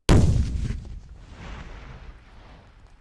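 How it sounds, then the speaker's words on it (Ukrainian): A Tesla car explodes outside a Trump hotel in Las Vegas, packed with fireworks and fuel. It gives one sudden loud blast followed by a long rumbling decay, then secondary crackles and booms fading out. "Перед одним з готелів мережі обраного президента Трампа злітає у повітря автомобіль Тесла"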